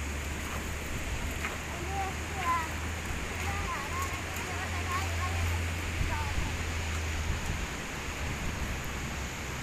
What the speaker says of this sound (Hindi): शोर कितना है इस दरिया का ना अली, पानी का बहाव बहुत तेज है